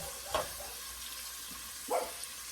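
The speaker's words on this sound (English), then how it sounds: "Y'all hear that sizzle?" Cabbage sizzles steadily in a frying pan, a soft continuous hiss broken by two short utensil scrapes.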